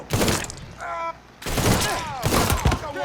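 Rapid bursts of gunfire from the video game Mafia III crack and boom in close, loud volleys, with shouting voices heard between and under the shots.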